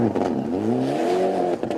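Engine of a rally car at the Granite City Rally 2005, revving and rising in pitch as it carries on along the stage, loud and near for a brief moment, with no voices.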